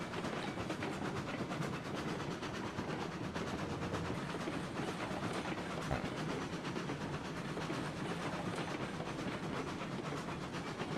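A steady, continuous rumble of a train rolling along the tracks in Railroads Online, with faint rhythmic clatter and hiss at a constant moderate level, no voices over it.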